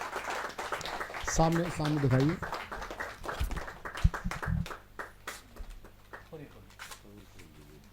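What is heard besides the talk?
applause at a poetry event book launch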